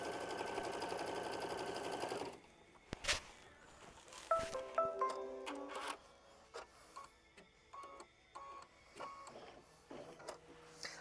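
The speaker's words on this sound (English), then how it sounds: "Go ahead and lower your foot and hit start, and that will be machine stitch step 14" A sewing machine tacking down fabric for a flower bouquet quilt block, a fast continuous stitching whir for about two seconds, followed by quieter clicks, handling taps and short mechanical whirs.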